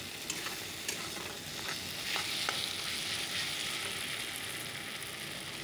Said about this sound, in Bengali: তো চলো এটা ভাজা হতে থাক